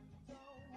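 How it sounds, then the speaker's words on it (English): A pet cat gives a couple of short meows close by, faint and soft, against a quiet indoor room. "My little kitty"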